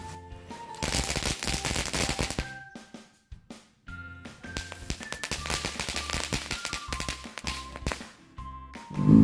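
Small friction-lit firecrackers (mercon korek) set off during Ramadan, popping in rapid crackling bursts like gunfire, with a brief lull before another long run of dense sharp bangs, loud and close.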